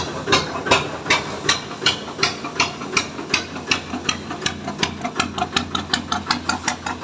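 An engine with a newly fitted exhaust pipe runs steadily nearby, a loud rhythmic chuffing pulse of sharp exhaust bursts repeating evenly for several seconds with a hissy edge and no speech.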